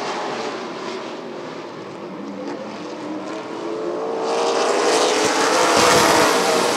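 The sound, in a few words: late model race cars racing at Rockford Speedway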